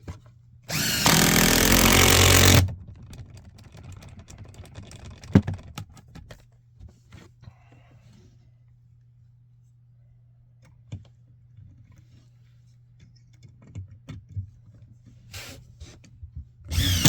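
Short bursts of a power drill driving screws into wood while closing in shower pipes and a valve against cold: one loud sustained burst near the start, then scattered knocks, clicks and handling noises.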